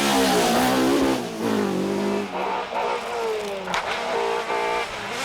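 A Toyota Starlet rally car engine revs hard and loud on the Donegal International Rally, pitch climbing and dropping through gear changes, with brief tyre squeal as it speeds past.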